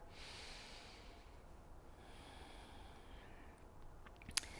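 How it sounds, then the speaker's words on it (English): Deep breathing during a yoga practice for back relief, a faint, slow, airy inhale and exhale over quiet room noise, with a small sharp tap near the end. "One more big breath here."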